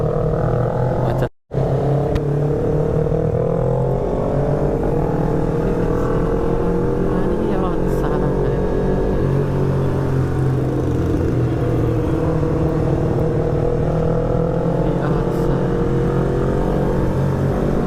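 Traffic jam of cars and motorcycles, seemingly heard from a motorbike: engines idle and rev nearby in a steady, loud drone that lasts throughout, with one brief dropout near the start.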